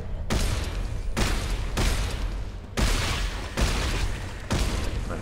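Rapid plasma cutter secondary fire in the video game Dead Space 3, a series of loud, dense bursts of harsh noise in close succession, each shot cutting off sharply before the next.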